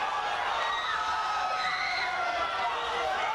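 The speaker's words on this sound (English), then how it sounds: "Listen to the crowd scream here" Crowd at a live NWA pro wrestling show screaming and cheering in a steady, dense roar, with shrill shouts and whoops rising above the noise throughout.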